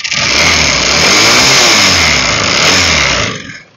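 A Yamaha Nouvo FI motorbike engine runs loud and close with a harsh rhythmic knocking from lack of oil, holding steady for a few seconds before cutting off abruptly.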